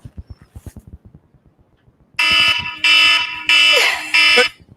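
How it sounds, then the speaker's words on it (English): An electronic alarm sounds in four loud, sustained blasts separated by short gaps, following a faint run of rapid low pulses. "We have an alarm."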